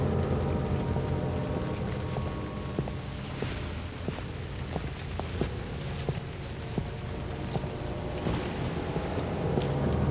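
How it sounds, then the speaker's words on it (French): Steady rain falls through a thunderstorm, forming a dense, continuous wash with scattered crackles and low rumbling that holds at an even level throughout. "L'orage."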